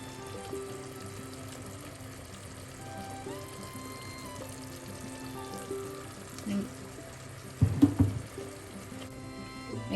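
A steady sizzle of tuna curry simmering in a pan, with a brief thicker splash and bubbling near the end as roasted coconut paste is added.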